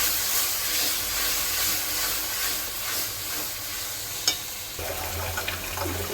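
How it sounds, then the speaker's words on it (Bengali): Mudfish (kuche fish) seasoned with salt and turmeric sautés in a pan with spices and a little sugar, giving a continuous close hiss and sizzle with a single sharp utensil clink near the end. "আর সামান্য একটু চিনি জাস্ট এইটুকু ব্যাস এবার ভালো করে কষাতে হবে"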